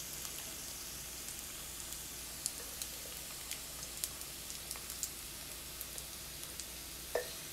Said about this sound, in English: The one downside of shallow frying like this is that you gotta flip each one individually.